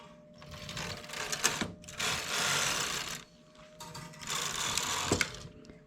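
A domestic knitting machine knits lace rows at a high tension setting with loose yarn, its carriage sweeping back and forth in about three loud rattling, clacking passes separated by brief pauses.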